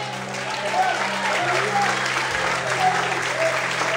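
A church congregation applauds, a dense steady wash of many hands clapping that carries on evenly throughout with voices mixed in beneath.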